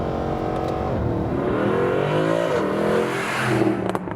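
A naturally aspirated Mercedes SLS AMG with Brabus modifications revs up close, its loud, throaty roar rising and falling in pitch as it accelerates, with no talking.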